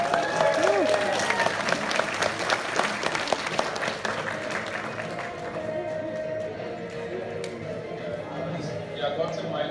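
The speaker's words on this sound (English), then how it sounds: "big round of applause" Applause from a convention panel audience at Anime NYC, dense and loud at first with some cheering and voices, then thinning to a steadier, quieter patter of clapping.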